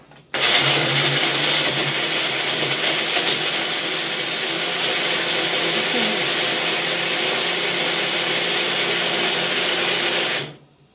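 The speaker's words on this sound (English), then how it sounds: "back to my blender here" A kitchen blender whirs loudly and steadily for about ten seconds while blending basil and cheese, starting abruptly and cutting off cleanly at the end, with no talk over it.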